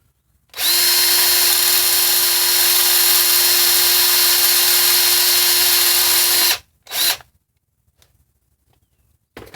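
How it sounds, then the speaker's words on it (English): A power drill whines loudly and steadily for several seconds drilling holes in the metal separator plate of a VW 09G transmission valve body, stops, gives one brief burst, then falls silent. "that completes our drilling of the separator plate"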